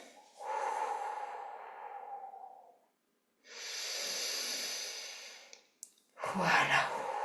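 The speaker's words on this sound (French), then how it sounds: "puis on arrête et on fait des grandes respirations." Slow, deep breaths during a guided meditation, two long airy inhale-exhale cycles close to the microphone, followed by a quicker sharp breath, with no talking.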